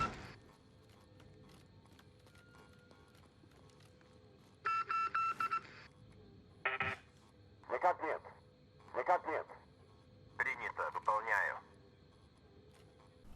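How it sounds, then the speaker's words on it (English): A payphone in Call of Duty Warzone gives off bursts of electronic beeping in a Morse-code-like pattern, several short, separated clusters of tones over a quiet background hiss. "So there's some beeping in what seems like Morse code, and then a Russian man saying something"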